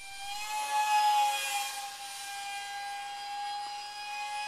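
A scratch-built Mini Mirage 2000 EDF park jet flies at about three-quarter throttle, its ducted fan giving a steady, high-pitched whine with faint shifting tones as it passes at a moderate distance, with no talk.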